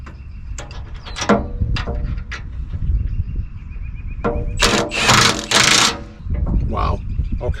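A power tool set to a low torque level tightens the bolts on the teeth of a Bobcat T66 combination bucket, giving rough rattling impact bursts with a few loud clattering strikes near the end.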